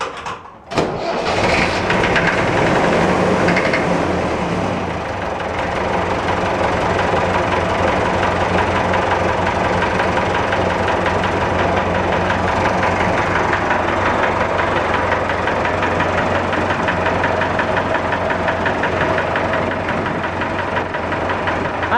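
An IMT tractor engine catches on a cold start and then runs on steadily with some throttle, a loud, close, continuous diesel clatter holding an even rhythm throughout with no voices.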